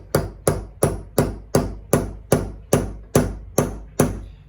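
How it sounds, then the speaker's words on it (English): A hammer drives a nail into a wooden block with eleven sharp, evenly spaced strikes, each a loud close impact with a brief ringing decay, falling into a steady rhythm with no talk. "I'm going to pound it just a little bit harder."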